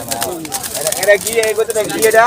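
Pigeons coo and murmur at a weekly pigeon market in Fatullah, Narayanganj, with a voice and crowd chatter mixing in around the birds' soft calls.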